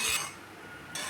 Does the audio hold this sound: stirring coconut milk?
yes